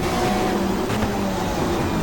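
BMW touring cars race in the game GTR2 during a 1994 Asia-Pacific Touring Car Championship round, their engines droning loud and steady together with a tonal hum.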